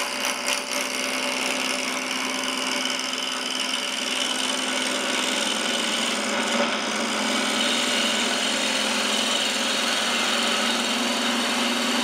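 A wood lathe spins a non-round workpiece while a bevel tool rubs and cuts, producing a steady, loud mechanical whir with a continuous scraping texture and no talk.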